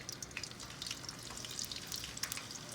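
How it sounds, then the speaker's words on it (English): Steady, soft sizzling and crackling of fish frying in a pan, with faint pops scattered throughout. "That frying sound,"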